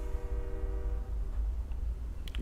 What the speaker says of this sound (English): I live right across the street from train tracks.